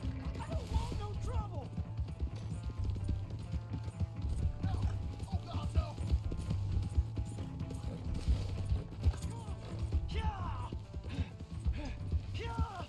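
Horse hooves clip-clopping in a video game, brisk repeated hoofbeats with occasional whinnies over a busy game soundscape and background talk.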